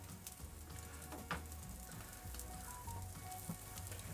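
Steaks sizzle on a grill set back from the flame, a faint, steady crackling hiss with occasional soft pops and no talking.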